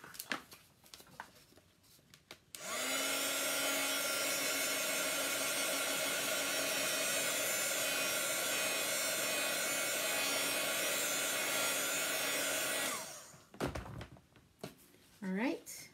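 A hair dryer blows steadily for about ten seconds over a chalk craft project, a loud, even whoosh with a faint tone. Brief talk and handling noises come before and after it.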